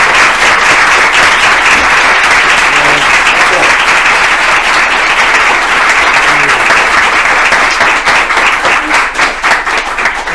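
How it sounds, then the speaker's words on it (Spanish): Loud, close applause from an audience at a book presentation for author José Luis Fernández Infantes, dense and continuous, thinning into more distinct individual claps near the end. "yo pido un fuerte aplauso para José Luis"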